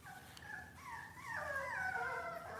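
Several puppies howl and whimper together in overlapping, wavering high cries that rise and grow louder toward the end, fairly close, with no speech.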